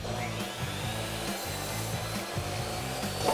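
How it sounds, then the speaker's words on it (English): A power saw cuts mitered 33-degree edges on wooden shelf boards for a photo display wall, a steady close grinding whine with a low motor hum and slight dips as the blade works through the wood. "So what we need to do is miter the edges at a 33-degree angle"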